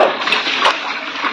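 Water from a supply pipe gushing and splashing into a bucket being washed, a close, continuous sloshing rush.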